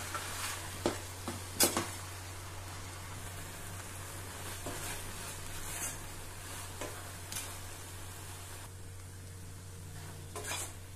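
Semiya vermicelli being stirred with sugar in a pan as the sugar melts: a quiet, continuous frying hiss, with sharp scrapes and clinks of the utensil early on and a few more later.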